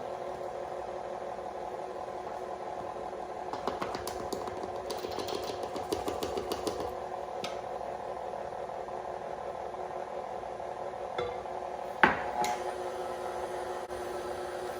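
Electric mixer beating box cake batter on low speed: a steady, moderate motor whir with a brief stretch of rattling beaters midway and a single sharp knock near the end.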